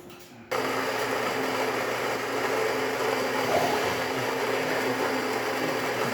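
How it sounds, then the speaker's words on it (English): Gaggia Anima Prestige espresso machine with a newly replaced grinder switching on and grinding, giving a sudden loud, steady whirring drone that starts abruptly and holds up close. "So let's go ahead and make a cup of espresso."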